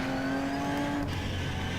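Race car engine in rFactor 2, a URD Darche at night on Sebring, droning loud and steady with a high whining tone, then the pitch drops abruptly as the car lifts off near the end, with no voices.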